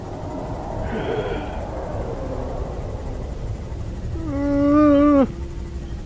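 A monster's roar in the horror game Dying Light, a loud, drawn-out tonal bellow rising near the end over a dim, rumbling ambient bed, with a fainter eerie call earlier, no talking.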